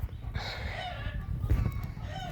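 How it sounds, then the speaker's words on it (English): Chickens cluck and a rooster crows nearby in a backyard garden in Gauteng, South Africa, over a low background rumble. "Chickens are making noise there."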